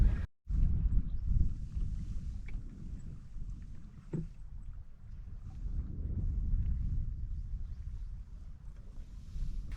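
Steady low rumble of wind buffeting the microphone on open water of a Scottish Highland loch, with faint splashes of a canoe paddle; no voices.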